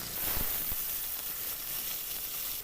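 Green chilies and onion frying in oil in a kadai, a steady close hiss of sizzling with a couple of soft thuds near the start, no talking.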